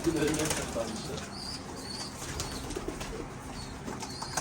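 Wings flap in short bursts among pigeons, with soft cooing and scattered chirps, while a person speaks in the background.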